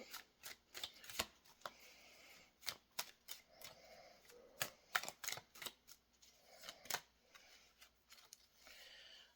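Tarot cards are handled and picked, giving a run of quick, crisp card snaps and flicks in irregular bursts, close and fairly quiet against a hushed room.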